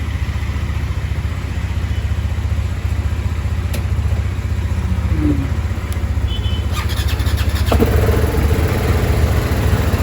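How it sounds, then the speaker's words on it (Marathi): A motorcycle engine runs steadily at idle after a cold start in Munnar, a low continuous drone that swells slightly near the end, with a few faint clicks and no talking. "तर गाडी पण स्टार्ट केली आहे."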